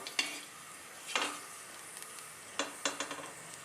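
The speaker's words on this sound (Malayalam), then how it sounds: "കശുവണ്ടി ഒന്ന് മൂത്ത് തുടങ്ങിയിട്ടുണ്ട്." Cashew nuts frying in ghee for payasam: a faint, low sizzle with a few sharp scraping and clinking stirs of a spoon against the pan, spaced irregularly and quiet.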